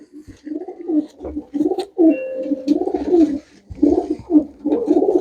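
Several pigeons cooing in repeated soft, throaty bursts, close by and fairly loud, with overlapping calls and brief pauses between phrases.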